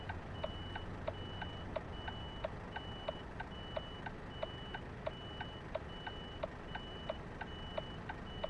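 Truck reversing alarm in Euro Truck Simulator 2, a steady series of evenly spaced electronic beeps about twice per second over a low engine rumble, moderately loud and continuous, with no talking.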